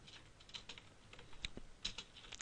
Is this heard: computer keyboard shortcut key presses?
yes